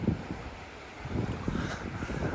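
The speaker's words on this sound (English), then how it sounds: "You got that wind coming off right in my face." Wind gusts buffet the microphone on a chilly Chicago lakefront beach, a steady loud rumbling roar that swells and dips with no talking over it.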